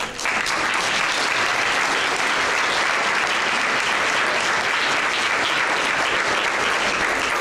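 Steady, loud, dense applause from a conference audience that fills the whole stretch without a break, honoring family members, mentors and teachers at a caring-champions ceremony.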